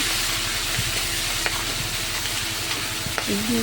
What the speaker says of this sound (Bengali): কাঁকড়াটা দিয়ে দিলাম কাঁকড়াটা হালকা ভেজে নেব